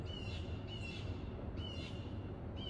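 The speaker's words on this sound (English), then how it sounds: "this bird is going apeshit right now" A bird squawks and caws loudly outdoors, harsh crow-like calls repeating about four times in short bursts over steady background noise.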